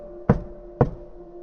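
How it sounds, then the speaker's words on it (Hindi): Two soft, hollow knocks on a door, spaced about half a second apart, close and isolated over a quiet hum with no voices. "फिर उसके एक हफ्ते बाद खटखटाने की आवाज़ फिर से आई, बहुत हल्की, बिना घबराहट वाली।"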